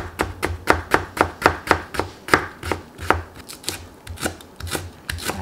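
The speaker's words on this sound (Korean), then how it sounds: "무는 채쳐주세요." Radish being julienned with a knife on a cutting board, a quick steady run of sharp close chops that slows toward the end.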